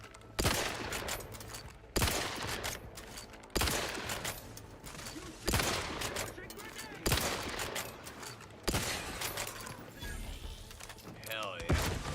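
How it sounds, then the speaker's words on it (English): A submachine gun in the sci-fi role-playing game The Outer Worlds 2 fires in short bursts, each a sharp, loud crack that decays quickly, repeating at roughly even intervals about seven times with quieter game sounds between. "that freaking submachine gun ate all my ammo up already for that gun"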